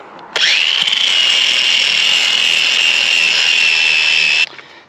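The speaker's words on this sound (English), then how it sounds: "take my flap disc and clean all of this up" A flap disc on an angle grinder cleaning up a beadlock ring galled from years of rock rash: a loud, steady high-pitched whine that starts abruptly, holds for about four seconds with grinding grit, then cuts off.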